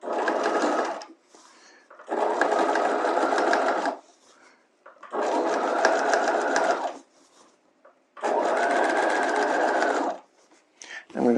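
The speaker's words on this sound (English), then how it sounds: "I'm going to understitch about 1/16 of an inch away from that seam that I just sewed on the lining side." A sewing machine runs in four even bursts of about two seconds each, understitching a lining seam on a bodice hem; a steady, close whirring hum with short quiet pauses in between.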